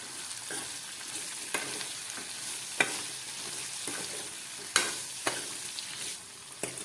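Spiny gourd pieces with salt and a pinch of turmeric sizzle steadily in a hot pan while a spoon stirs them, with several sharp scraping clicks standing out over the continuous frying hiss.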